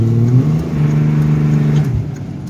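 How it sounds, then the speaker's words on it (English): A car engine rises in a quick throttle blip, a loud, close rumbling rev that swells and then drops back toward idle. "A little blip of the throttle, and even if we're rolling, you just hit the throttle and you hear it tack out"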